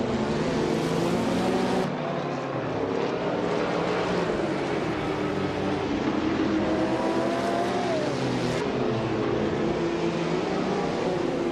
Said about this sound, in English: Muffler Life is driving a 1989 Ford RS200 MSA GTO